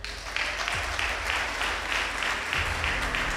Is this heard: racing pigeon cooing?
no